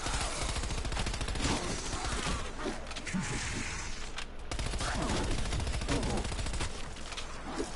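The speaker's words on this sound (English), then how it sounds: "If your SMG sounds like that, it's suppressed." Suppressed SMG fire in Call of Duty Black Ops Cold War zombies mode, heard as dense, continuous rattling bursts over a busy background of game effects.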